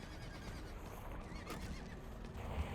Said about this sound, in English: This is the fancy Season 4 horse.